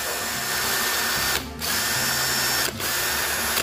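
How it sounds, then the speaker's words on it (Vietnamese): A DEKTON D21 MK13 cordless drill with a large motor and 13 mm auto-lock chuck runs steadily at close range with a loud, continuous whine, briefly dipping twice as the trigger is released and squeezed again. "Giờ để mình bóp cò cho anh em nghe thử tiếng máy nha."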